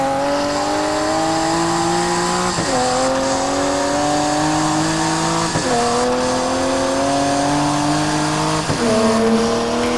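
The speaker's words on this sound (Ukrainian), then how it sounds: "там звук оце переключення послухайте просто" A car in the Grand Mobile video game accelerating through its gears, engine tone climbing steadily then dropping sharply at each of three shifts, loud and continuous with faint tire squeal.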